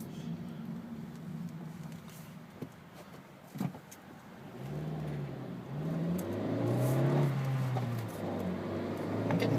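A 2012 Honda Fit Sport with a manual gearbox pulls away while driving, its engine revving up in rising, falling sweeps after a quieter stretch of road noise and a few small clicks.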